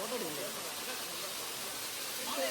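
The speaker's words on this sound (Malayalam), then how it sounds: "ഇതാണ് ട്വിൻ വാട്ടർഫാൾസ്." Twin waterfalls at Kodayar pour in a steady, broad rushing roar close by, filling the whole clip with a continuous hiss of falling water while a voice speaks briefly over it.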